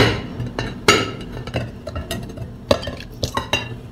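Dragon fruit pudding turned out onto a plate, heard as a string of clinking, tapping and scraping sounds of dishes and utensils, sharp and close with irregular spacing.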